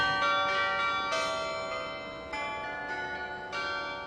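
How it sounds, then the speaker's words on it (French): A church carillon of 37 bells rings a tune over a town square, with a series of bright bell strikes whose tones ring on and slowly decay, clear and fairly loud with no talking. "Alors ici on a un carillon qui a 37 cloches, il est très bien placé."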